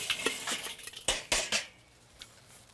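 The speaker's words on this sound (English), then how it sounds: "Here are some lit coals." Lit charcoal coals tipped out of a chimney starter into a grill, a quick run of sharp metallic clinks and clatters that settles after a couple of seconds.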